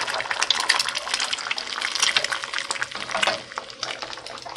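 An egg frying in a pan for Oaxacan-style eggs with nopales and potatoes, a steady close sizzle and crackle with bright spitting bursts throughout, no talking.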